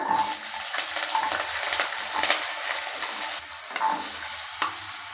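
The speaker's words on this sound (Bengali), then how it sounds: "এবার দিয়ে দিচ্ছি আলু কেটে রাখা আলু" Cut potatoes tipped into hot oil already frying dried red chilli and black cumin, giving a steady close sizzle with scraping stir strokes and a few light clinks, no talking.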